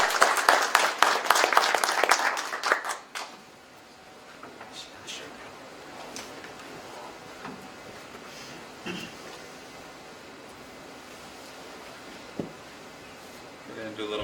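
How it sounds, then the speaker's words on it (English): Audience applause at an open data hackathon talk in Hamilton, a dense burst of clapping for about three seconds that then stops, leaving quiet room noise with faint scattered sounds. "so please give them a round of applause."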